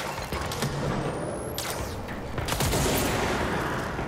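Rapid gunfire in the action video game Control, loud bursts of overlapping shots over a dense, noisy game soundscape with booming impacts.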